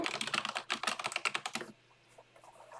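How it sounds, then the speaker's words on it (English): Loud, fast typing on a computer keyboard, with dense clattering keystrokes in quick bursts for about a second and a half before it stops and leaves faint background sounds. "your keyboard loud as hell"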